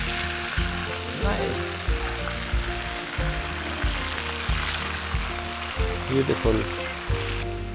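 Salmon fillet sears in a hot pan for a lemon butter and garlic sauce, a steady close sizzle and crackle with occasional stirring scrapes, while someone talks briefly over it.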